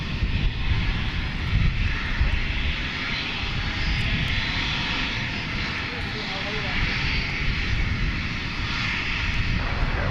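A UPS Boeing 757 at DFW Airport at night, its engines giving a steady, loud broadband roar that holds for the whole stretch, with voices talking over it.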